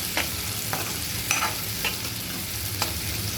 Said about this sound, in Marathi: टोमॅटो पण आपल्याला चांगला परतून घ्यायचं आहे